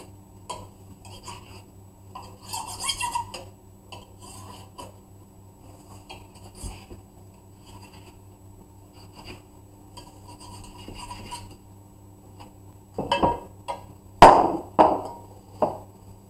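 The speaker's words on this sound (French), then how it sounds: "Je retourne la terrine et je découpe tout ce qui dépasse." A kitchen knife trims the overhanging edges of a terrine on a cutting board, with faint scattered scraping and slicing at first, then several sharper, louder cuts and taps close by toward the end.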